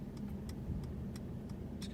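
A self-parking Mercedes-Benz E300 shifting gears, with a steady low engine and road hum throughout and a few faint, brief ticking clicks on top, heard close from inside the car.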